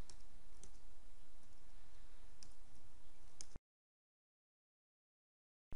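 Typing on a computer keyboard while editing Verilog code, a few distinct key clicks over steady broadband noise that stops abruptly, followed by silence.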